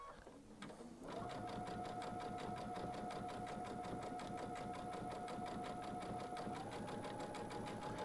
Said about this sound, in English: I'm letting the machine do all the work, feeding it in.